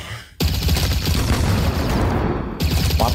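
Loud explosions from the Roblox game Korrupt Zombie burst in abruptly, merging into a dense roaring rumble of blasts and gunfire that cuts off briefly before resuming.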